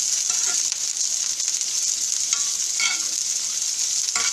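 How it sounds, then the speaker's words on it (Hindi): Shredded cabbage frying in a little oil, a continuous bright sizzle with soft scraping stirs running throughout, close and fairly loud with no talking. "जैसे बंद गोभी हमारी फ्राई हो रही है अच्छी तरीके से।"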